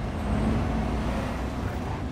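Steady engine rumble of a car driving in the video game Cyberpunk 2077, continuous and fairly loud throughout, with no voices.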